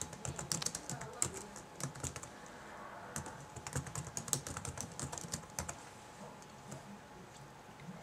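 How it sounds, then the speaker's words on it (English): Rapid typing on a computer keyboard, close and fairly quiet, a steady run of crisp key clicks with short pauses that continues for several seconds. "I'll type in my information."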